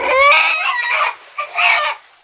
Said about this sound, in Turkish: anne diye bağıran horozu kesemedi